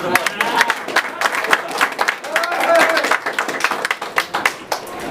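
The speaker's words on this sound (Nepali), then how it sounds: "उहाँलाई ताली बजाइदिउँ कस्तो राम्रो" A church wedding audience claps in broken, uneven bursts, with voices chattering faintly underneath and a brief tonal sound in the middle.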